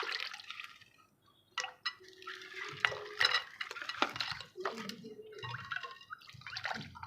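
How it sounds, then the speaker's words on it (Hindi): Ice going into a salty kachi lassi, a series of clinking knocks and splashy clatters against a glass or jug with liquid sloshing, close and fairly loud, with pauses between bursts and no talk. "अब इसके अंदर जाएगी बर्फ़"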